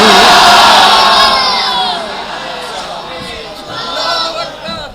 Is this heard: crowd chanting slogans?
yes